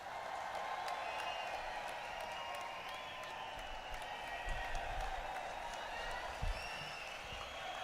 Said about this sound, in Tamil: கரகோஷம் இன்னும் சத்தமாக வேண்டும்.